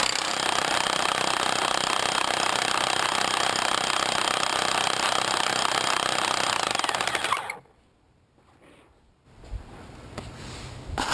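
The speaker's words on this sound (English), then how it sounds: "I've positioned the hammer drill on its side to my left to stabilize the torque" A hammer drill fitted with a core hole saw bores into a concrete curb, a loud continuous rattling hammer that runs unbroken for several seconds, then cuts out, leaving near-silence and a few faint knocks.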